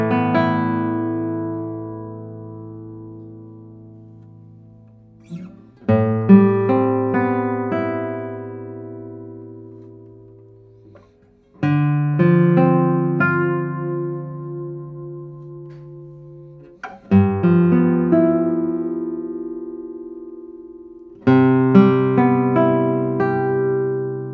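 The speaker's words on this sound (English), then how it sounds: "let's see how the guitar sounds" A guitar played in chords, each strummed chord ringing out and decaying before the next, five strums spread over a slow, relaxed pace, clear and close with no talking.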